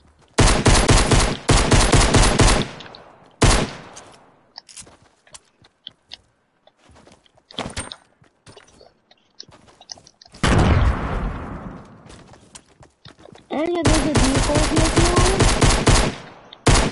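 Video game gunfire in rapid bursts, loud and close, several sustained strings of shots separated by quiet gaps, with scattered single pops and clicks between bursts.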